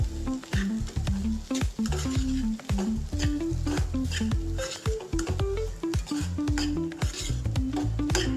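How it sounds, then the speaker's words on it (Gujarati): A spoon repeatedly scrapes and knocks as moong and moth beans are stirred with salt in a pan. The taps come in a quick, irregular rhythm over a light sizzle. "હવે આને સારી રીતે મિક્સ કરી લેશું."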